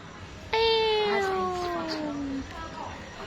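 A cat gives one long, loud, clear meow close by that slowly falls in pitch, then a quieter tail, over faint background noise.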